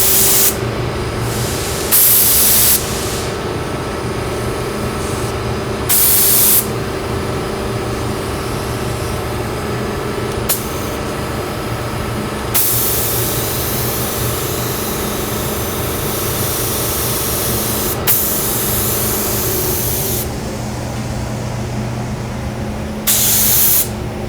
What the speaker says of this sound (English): now I'm going to widen my spray pattern up just a little bit